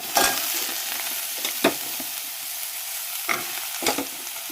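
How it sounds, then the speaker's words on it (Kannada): Ridge gourd and lentils fry in oil in a home kitchen with a steady close sizzle, broken now and then by a few brief stirring scrapes and knocks of a spoon against the pan. "ಇವನನ್ನು ಹಾಕಿ ಸ್ವಲ್ಪ ಎಣ್ಣೆ ಒಳಗೇ ಫ್ರೈ ಮಾಡ್ಕೋಬೇಕು"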